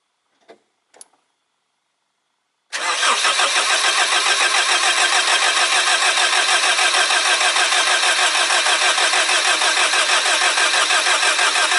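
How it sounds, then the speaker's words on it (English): Car engine with too-low compression cranking and catching after two faint clicks and a pause, then settling into a loud, steady, rapidly pulsing idle that runs unbroken to the end. "then I go to start this engine"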